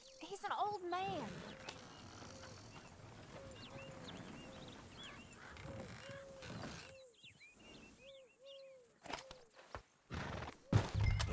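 Horses in Red Dead Redemption 2 whinny with a few rising neighs and clopping hooves near a roadside. Characters talk throughout, with creaks and mechanical clatter scattered in.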